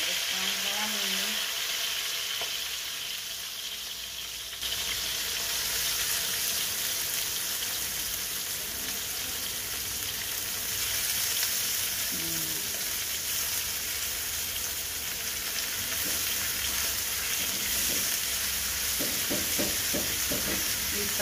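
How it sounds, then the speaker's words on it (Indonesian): Chili peppers frying in a hot wok give a steady, loud sizzle throughout, with faint stirring clinks near the end and no speech. "Kita goreng sampai warnanya menjadi merah tua."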